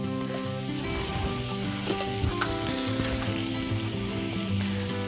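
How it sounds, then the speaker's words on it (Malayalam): Finely chopped onions fry in hot oil in a pan for semiya upma, a loud, close, continuous sizzle with faint stirring underneath and no voices. "അരിഞ്ഞ സവാള അതിലേക്കായിട്ട് ചേർത്തിട്ടുണ്ട്"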